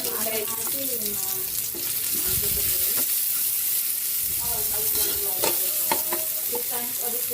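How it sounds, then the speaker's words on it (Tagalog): Garlic and onion sizzle loudly in hot oil as they are sautéed for pork menudo, with scraping stirs of a spatula and a brief splash of water cutting across the steady frying hiss. "Magigisa na po tayo para sa ating pork menudo."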